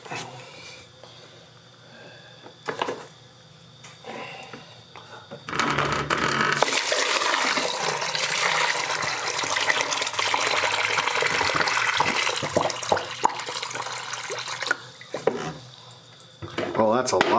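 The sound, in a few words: water poured down a basement drain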